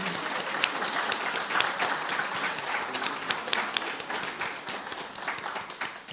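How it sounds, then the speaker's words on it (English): Audience applause during Curaçao Export Week at the Central Bank, a full, steady round of clapping from a seated crowd, holding at moderate loudness and thinning slightly near the end. "So a round of applause for Curaçao"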